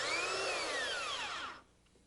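A belt sander works on wood, its motor giving a loud, close whine that slowly drops in pitch, then cuts out sharply, leaving near silence.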